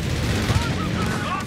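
Strafing gunfire from the Company of Heroes 3 strategy game, North Africa desert operation, a dense continuous rattle of shots with low booms underneath, steady and fairly loud for the whole stretch.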